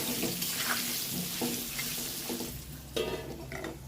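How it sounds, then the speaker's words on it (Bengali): Potatoes frying with turmeric and salt in a pan, a moderate sizzle with intermittent stirring clatter and brief splashy bursts, close and without talk. "হলুদ আর লবণটা দিয়ে আলুটাকে লাল করে ভেজে নিতে হবে"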